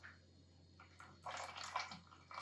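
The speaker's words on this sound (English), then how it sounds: "I'm just gonna pour that juice in this bowl." Juice from cooked Korean-style sweet ribs pours from a tilted pan into a bowl, a soft, quiet trickle and splash that builds in the middle and trails off, with no talking.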